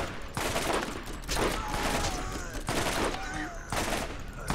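Rapid bursts of gunfire in the video game Borderlands, repeated loud volleys of shots in quick succession, close and dense throughout.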